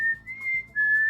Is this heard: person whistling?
yes